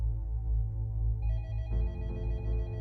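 Telephone ringing in an office, a loud sound effect of repeating electronic ring tones that shift pitch partway through, steady and alone with no talk.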